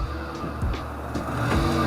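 A Vauxhall car engine idling after sitting unused for seven years, a steady low rumble with a few brief rises in revs, close and fairly loud.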